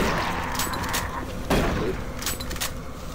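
Shotgun fire in Doom 3, with several loud blasts at close range, the strongest booming about midway, mixed with other impacts and game noise.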